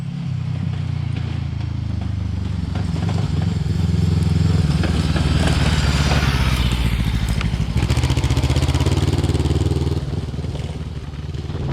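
A Romet ADV 530TT adventure motorcycle rides off-road, its engine droning loud and close with a rough, rising growl through the middle that eases off toward the end, and no voices.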